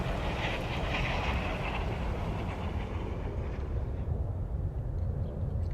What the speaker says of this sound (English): that also means that the plane is going to be coming